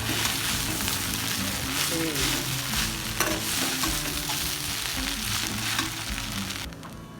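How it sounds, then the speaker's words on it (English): Poha is stirred and mixed in a frying pan, with a continuous close sizzle under repeated scraping and turning strokes that stays even and dense throughout, with no speech. "So now it's time to mix this really well, slowly and steadily."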